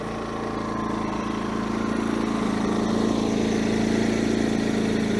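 A WEN 56225i inverter generator runs in econ mode with a steady, even engine hum and drone that swells slightly louder partway through, heard close up with no talking.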